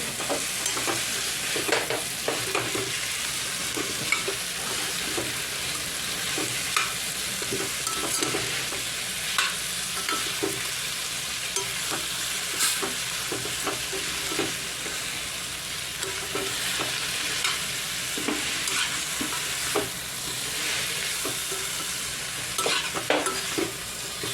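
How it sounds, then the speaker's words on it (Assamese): Steady sizzle of pointed gourd and potatoes frying, with intermittent scraping and stirring clicks, close up and without talk. "আমি পটল আলু ভাজি আছোঁ।"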